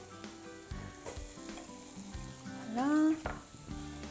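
Onions sizzle in a pan, a soft, continuous frying hiss with stirring scrapes as a voice speaks briefly over it.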